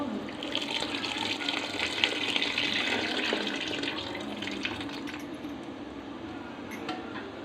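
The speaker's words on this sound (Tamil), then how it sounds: "இப்போ வந்து நம்ம புளி தண்ணி ஊற்றிக்கலாம்ப்பா." Tamarind water being poured into bisi bele bath while cooking, a steady close liquid pour and splash running continuously at a soft level with no talking.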